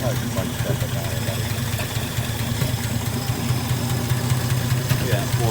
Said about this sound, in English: we got our Ford F150 running.